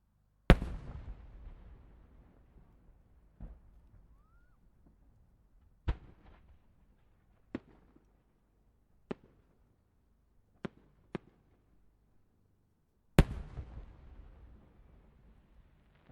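Fireworks shells bursting over the Omagari fireworks show in Akita, Japan: a heavy opening boom with long rumbling decay, then scattered sharp single cracks and pops spaced seconds apart, and another loud booming burst near the end.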